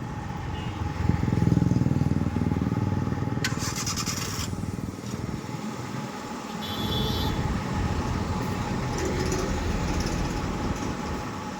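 A car engine idles low and steady as the car reverses slowly with the clutch eased out and no throttle, running continuously with a few brief clicks and faint voices in the background.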